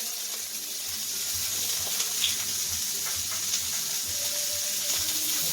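A pan of steak with chopped shallot and garlic sizzles steadily, a constant hiss with faint stirring clinks, moderately loud and close, with no talking.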